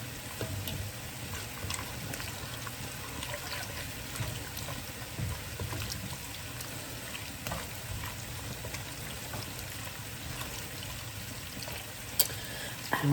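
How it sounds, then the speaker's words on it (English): Frozen corn and black beans are stirred in a pan, a soft continuous sizzle and gentle scraping with faint clinks, quiet and close throughout. "And we just mix that all together in there"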